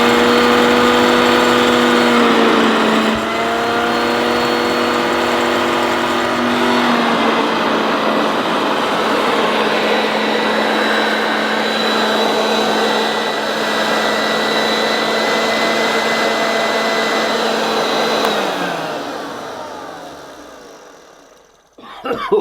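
A Hoover Junior 1346 upright vacuum cleaner runs loudly and steadily with a high whine and motor drone, then winds down to silence near the end.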